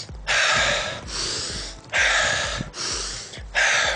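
Heavy breathing while running: loud, forceful gasping breaths repeat in a steady rhythm, close up, with short pauses between them.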